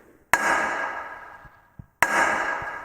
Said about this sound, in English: That noise tells me that the blade guard has returned over the knives.